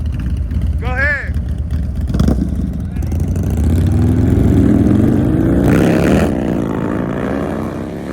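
Harley-Davidson Road Glide motorcycles, an M8 against a Twin Cam, launch in a drag race, their engines rising into a loud swelling roar that builds and fades, with brief voices and crowd noise over the engines.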